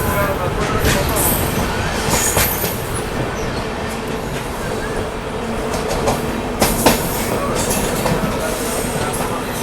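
A train running past Godavari railway station near Rajahmundry rumbles loudly and steadily, its wheels squealing and clacking over the rails in a continuous near passage.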